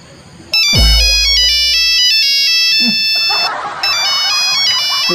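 A mobile phone ringtone plays loud and close, a bright repeating electronic melody that sounds in two bursts with a short gap between them and no talking over it.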